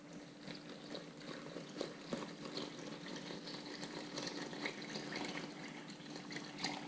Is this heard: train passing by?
no